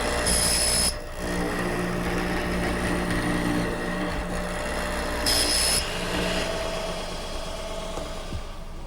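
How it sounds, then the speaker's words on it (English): A hollow chisel mortiser cutting a mortise into a wooden stile for a high chair, its motor humming steadily with rising whines as the chisel plunges into the wood in repeated strokes, close and fairly loud, no talking. "To cut the mortise in the stile, I'm going to use my hollow chisel mortiser."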